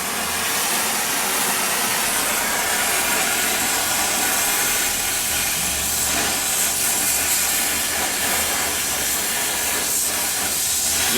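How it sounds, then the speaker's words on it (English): A torch burning with a blue flame as it heats a Jeep Grand Cherokee steering linkage, giving a loud, steady roaring hiss that runs unbroken throughout, with no talking. "Nice, pretty blue flame, what we're looking for."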